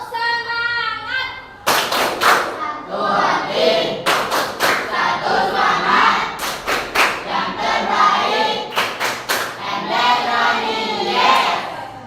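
A class of students performs a rhythmic spirit clap, sharp clusters of hand claps in patterned bursts alternating with chanted group voices, loud and close throughout.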